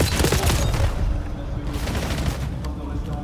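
A rapid fusillade of gunfire in Call of Duty: Black Ops 7 during an esports match, with loud, dense bursts of shots layered over a busy game mix. Some faint commentary may sit underneath.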